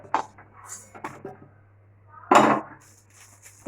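Fried pieces lifted from a pan of hot oil with a metal utensil, giving a few sharp clinks and scrapes against the pan, with a louder clatter late on over a low steady hum.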